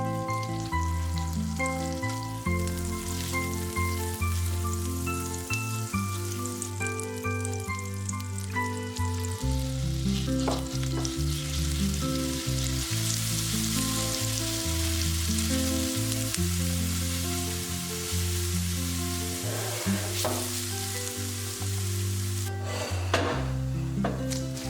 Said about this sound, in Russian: Одну небольшую головку чеснока измельчаем и обжариваем на сливочном масле до